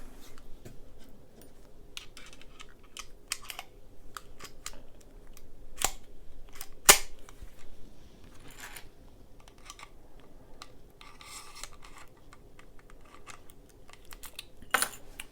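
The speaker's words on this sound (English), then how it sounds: "let's get this gun locked back up" A cheap wafer-style gun lock is fitted back onto a handgun, producing faint, scattered metallic clicks and small handling taps against a quiet background.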